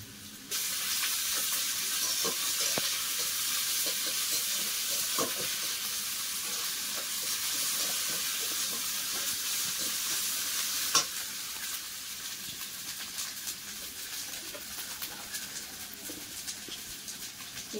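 Onion and ginger-garlic paste fry in oil with a continuous close sizzle, while occasional scrapes and clicks of a utensil stir the pan and one sharper knock rings out midway.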